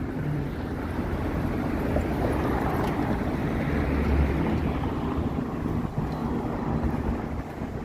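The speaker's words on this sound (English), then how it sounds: "there's a chilly wind this evening" Steady chilly wind buffeting the microphone outdoors on a downtown Toronto street in the evening, a continuous low roar with gusts, no talking.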